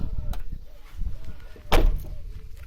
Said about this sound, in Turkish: Kapımızı kilitleyelim kumandayla.